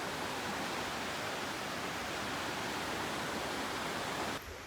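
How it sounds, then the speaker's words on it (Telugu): A loud, constant roar of murky, high-flowing water from a nearby waterfall in Alaska on a rainy day fills the whole stretch, cutting off abruptly at the very end. "జస్ట్ ఇక్కడ పక్కన ఇంకో వాటర్ ఫాల్ ఉంది"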